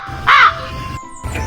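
One loud, harsh caw from a nearby crow at a mini zoo in Baling, Kedah, followed by quieter background noise and a faint second call.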